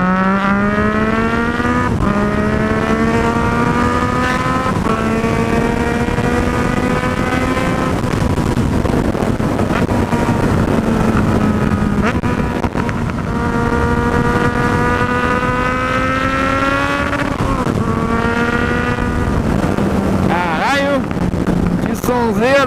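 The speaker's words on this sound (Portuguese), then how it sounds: "vamos dar só uma esticadinha pra vocês ouvirem no escapamento" A Yamaha MT-09 motorcycle engine revs up and down repeatedly, its exhaust note rising and falling in loud, steady harmonic sweeps close by.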